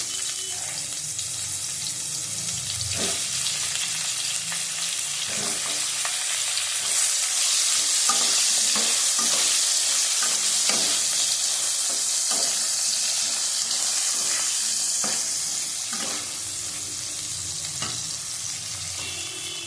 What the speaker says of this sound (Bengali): বেগুনটা ভেজে তুলে নেবো।